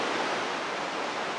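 Rushing water of Mesa Falls, a large undammed waterfall in Idaho, roars as a steady, dense broadband wash, loud and unbroken with no voices over it.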